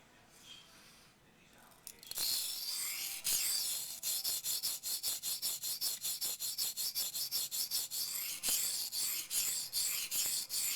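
A knife blade, a Les George VECP, is stroked back and forth across a sharpening stone in rapid, regular raspy rubs after a short quiet start, close and fairly loud, with no talking.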